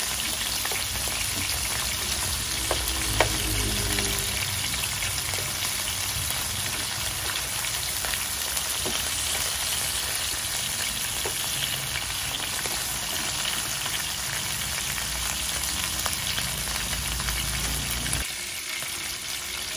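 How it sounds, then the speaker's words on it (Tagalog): Maya-maya fish sizzles and crackles in hot oil in a pan for sinigang, a steady dense hiss that runs almost the whole time beside a noisy street, then eases off near the end. "Parang kaunting paprito lang dito"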